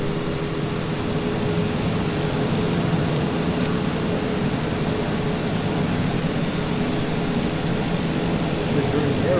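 Steady propeller airliner engine drone of a Microsoft Flight Simulator 2020 flight from Dublin to Frankfurt, a continuous loud broadband rumble with a faint tonal hum, constant throughout with talk mixed in.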